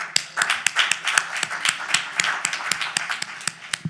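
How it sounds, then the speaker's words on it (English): Sparse, uneven clapping from a small audience at a Saturday action rally in the NAN Harlem auditorium, distinct individual claps in irregular rhythm, fairly close and clear. "Give yourself a round of applause."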